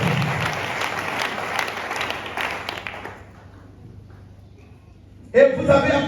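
A church congregation in a French-language service bursts into loud sustained applause and cheering for about three seconds, fades to a quiet lull, then a voice cuts back in with crowd noise.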